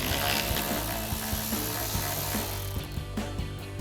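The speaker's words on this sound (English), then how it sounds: "So I'm gonna grab a 7mm socket and pull that bolt out" A 7mm socket on a ratchet pulls a bolt from a 2014-2019 Corvette front end during a Novistretch mask install, its pawl clicking in quick repeated bursts, close and clear with no talk.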